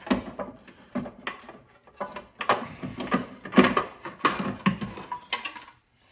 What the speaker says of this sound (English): So let's go and pull that off and see what it reveals.